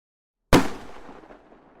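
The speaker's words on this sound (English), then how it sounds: "The musket could go off" A musket fires once with a sharp, loud crack after half a second of silence, followed by a decaying rumble and echo that fades out, with no voices.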